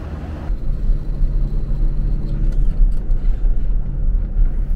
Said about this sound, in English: Well, the truck handles it fine.